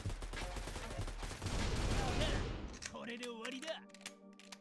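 Dense bursts of gunfire in the co-op tower defence shooter Puropu Defence Squad, a rapid rattling barrage for about three seconds that cuts off into quieter game tones and beeps.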